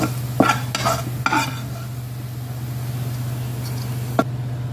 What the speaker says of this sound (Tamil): இந்த பூண்டு தான் இதை நல்லா சிவக்க வறுத்துக்கலாம்